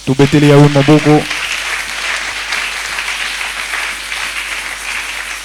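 A church congregation breaks into loud, sustained applause that fills the room, following a brief spoken exclamation at the start.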